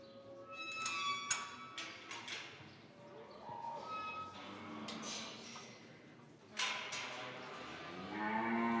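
A bull moos repeatedly at a cattle farm demonstration, loud and close, with several drawn-out calls and other cattle noises heard alongside.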